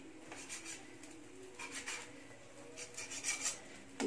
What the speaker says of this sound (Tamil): இதை வந்துட்டு தோசை கரண்டி வச்சு இந்த மாதிரி கட் பண்ணிக்கணும்